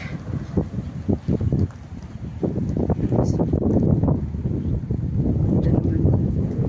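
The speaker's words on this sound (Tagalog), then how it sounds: "Medyo mahangin." Steady wind buffeting the microphone with a low rumble at Parikia on Paros Island, Greece, gusting louder after the first couple of seconds, with faint knocks and splashes underneath.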